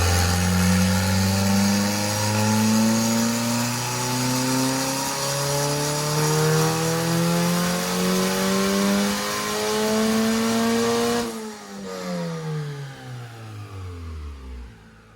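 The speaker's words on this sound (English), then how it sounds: "So we're gonna do a 4th gear pull here and see how it looks." A Honda K-series engine swapped into a Porsche 911 turbo pulls hard in 4th gear on a dyno, its loud rising wail climbing steadily for about eleven seconds before the throttle snaps shut and the revs fall away.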